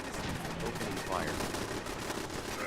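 Bursts of gunfire in the video game Fallout 4 rattle steadily in a dense, continuous stream, with voices talking faintly underneath.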